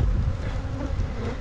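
Honeybees around hives being built up for almond pollination, a dense, steady buzzing swarm heard close by with no talking.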